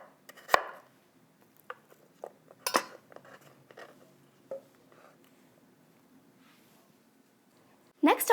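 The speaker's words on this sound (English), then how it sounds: "I'll go ahead and slice it up." A knife slices through a red radish on a board, giving a few sparse, crisp cuts with quiet gaps between them and a louder burst of handling at the end.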